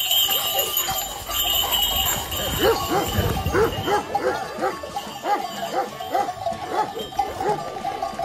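Several Kangal shepherd dogs bark repeatedly in a rough rhythm, fairly close, with outdoor noise and voices in the background.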